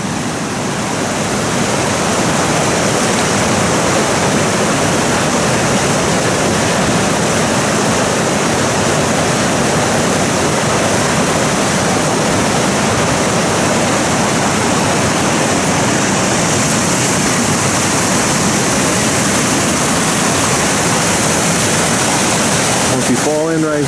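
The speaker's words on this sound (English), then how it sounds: "This is where the river meets together." A powerful river roars where two rivers join in a wooded valley, a loud, steady wall of rushing water that runs unbroken for the whole stretch.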